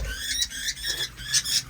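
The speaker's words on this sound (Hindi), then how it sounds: "आपको ना साइड पे आवाज़ आ भी रही है बच्चों की" Parrot chicks call from inside a nest with rapid, shrill, scratchy chirps in quick bursts. The calls are close and moderately loud, and no one speaks over them.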